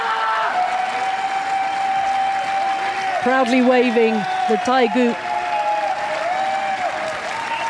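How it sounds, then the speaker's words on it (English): A crowd at a Paralympic boccia gold medal final in Paris breaks into sustained applause and cheering, which swells midway and carries on beneath a commentator's steady voice. "Jubilation from the crowd."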